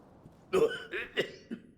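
A character in the video game Sekiro: Shadows Die Twice coughs in four short, quiet bursts spread over under two seconds, alone against a low background.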